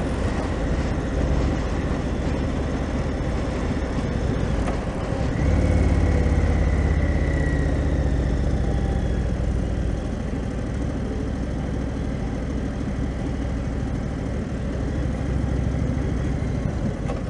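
A 2017 Indian Chief Dark Horse motorcycle cruises at low RPM, a steady deep engine drone mixed with strong wind rush, continuous and loud from the rider's position, with a brief rise in rumble partway through.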